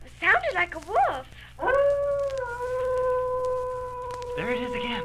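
Dog howling down the street: a long, steady, drawn-out howl that holds its pitch for a few seconds, preceded by short rising yelps and followed by a brief lower cry.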